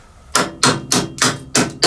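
An Allen wrench is knocked against a NordicTrack elliptical incline motor part to drive it through: six sharp, close metallic bangs at a steady rhythm, with no talking.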